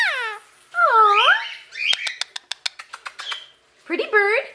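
A tame blue ringneck parrot chirps up close, giving swooping whistled calls and a quick run of sharp clicking chirps before a final burst of warbling whistles.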